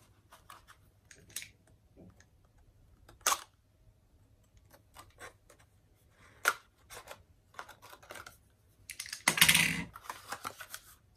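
A box cutter works at a small cardboard advent calendar box, giving sparse, sharp clicks and scrapes, then a louder burst of cutting and tearing near the end, all close and with no talking.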